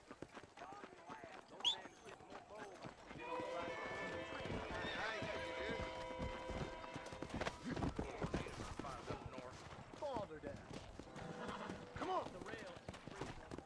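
Horse hooves clip-clop and a horse whinnies in the Red Dead Redemption western video game, with hoofbeats running throughout and occasional gunfire-like pops, all under game dialogue.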